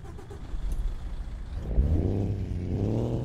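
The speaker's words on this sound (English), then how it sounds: "So there's your two engine sounds there." A Freightliner truck engine in Euro Truck Simulator 2 cranks over and catches, settling into a low rumbling idle that swells and stays steady.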